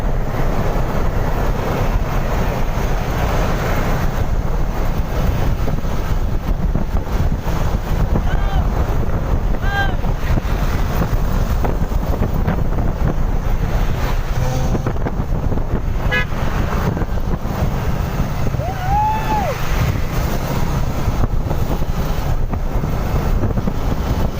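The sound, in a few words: riding a motorcycle at speed, wind noise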